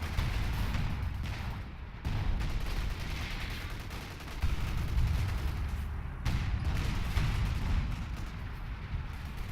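Artillery barrage landing in a WWII Normandy strategy game set around Caen and Bretteville, with heavy booming impacts rolling continuously and thickly for several seconds, loud and dense with no talk.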